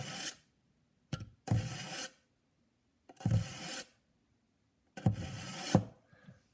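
A knife is drawn through the fine slot of a Wrenwane hand sharpener in three or four separate strokes, each a short dry rasping scrape with brief silences between, close and fairly quiet.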